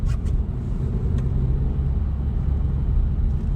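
A manual-transmission car pulls away from a stop sign in first gear: a steady, loud low engine rumble throughout, with a few brief faint high clicks near the start.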